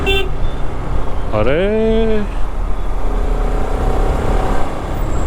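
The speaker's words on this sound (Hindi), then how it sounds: "यार ट्रैफिक कुछ ज़्यादा ही लग रहा है मेरे को।" Busy road traffic with a single car horn blaring for about a second over a steady engine and road rumble, close and loud, with a brief voice at the start.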